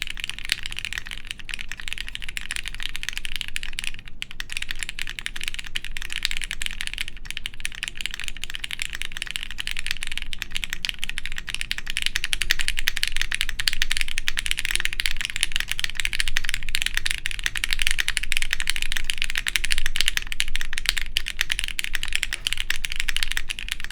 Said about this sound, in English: I'm typing more heavily on purpose, and I can hear the resonance of the case